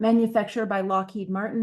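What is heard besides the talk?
None of the usual background noises is heard.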